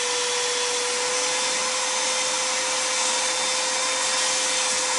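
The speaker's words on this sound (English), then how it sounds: "Turn that vacuum on." A vacuum cleaner sucks dirt and crud out of a New England Firearms Pardner single-shot shotgun barrel, a steady loud whine with a fixed tone that runs unbroken the whole time, close by and alone.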